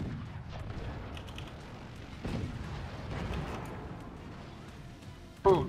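Artillery fire strikes a cannon in the siege game Forts, a muffled boom over a rumbling battlefield, followed by a sharp nearby impact near the end; a player talks throughout.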